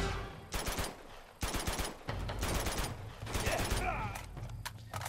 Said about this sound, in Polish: Słyszę, jak Sally strzela